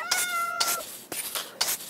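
Cats meowing in the video game Minecraft, four short sharp meows in quick succession, loud and close, with no talk.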